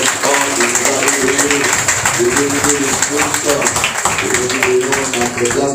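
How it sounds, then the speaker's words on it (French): A church congregation applauds steadily, the clapping continuous and moderately loud under a voice singing or speaking throughout. "Applaudissons le Seigneur, notre Dieu"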